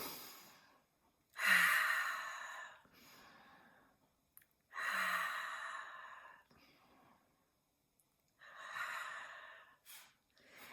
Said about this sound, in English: So now close your eyes, take 3 deep breaths.